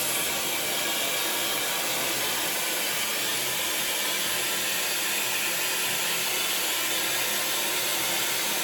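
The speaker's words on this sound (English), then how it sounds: "Take the hair dryer," A hair dryer blowing steadily at the roots of hair during a blowout, giving a constant, close, even whoosh with no break.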